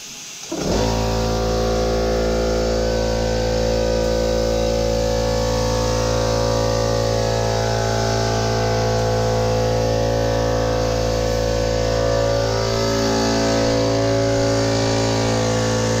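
A steady, loud hiss runs almost unbroken for the whole stretch while a second coat of spray paint goes onto a Dmax wing, with an underlying constant hum and no talking.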